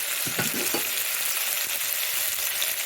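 Tomatoes with a little salt sauté in a pan for a chicken and egg poriyal, a steady close sizzle with a few stirring knocks near the start and no talk.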